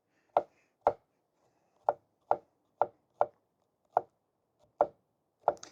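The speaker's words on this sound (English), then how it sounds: "So I'm just gonna cut up my veggies first." Vegetables being cut with a knife on a board at a campsite, about ten sharp close chops in an uneven rhythm with quiet gaps between, no speech.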